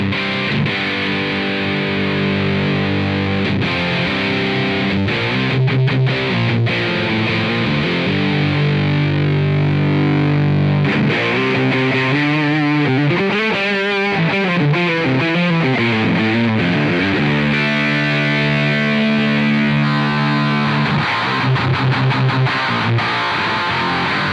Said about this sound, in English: That kind of mad HM2 sound.